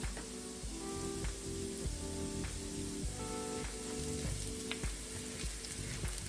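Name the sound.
sautéing shrimp and broccoli with red pepper flakes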